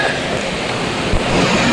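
Heavy monsoon rain pours down in Mumbai near a flooded station area, a loud, dense, continuous wash of noise close to the microphone with gusty wind, and no voices.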